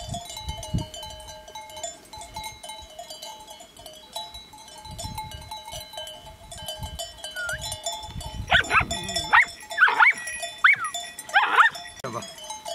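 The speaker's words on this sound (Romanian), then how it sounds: "E mare ajutor un câine de ăsta." A sheepdog barks near a flock of sheep in a Maramureș pasture, with distant cowbells and sheep bleats in the background and sharp, closer barks and animal calls building toward the end, while people talk.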